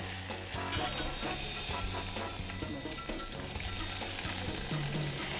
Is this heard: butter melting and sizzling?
yes